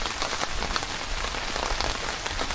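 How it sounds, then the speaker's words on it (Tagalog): Steady heavy rain pouring at a campsite in Antipolo, a dense, constant hiss of drops hitting surfaces, close and loud throughout with no voices. "Lakas na ng ulan."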